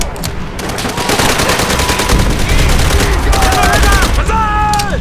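Rapid bursts of gunfire from the video game Call of Duty: World at War, loud and continuous with dense repeated shots, over game sounds and faint background voices.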